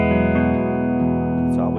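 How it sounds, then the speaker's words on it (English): Electric guitar played through an amp with the reverb turned low and no delay, close-miked with an SM58; sustained, slightly distorted chords ring steadily and up close with no repeats. "this is the sound of the guitar with no delay"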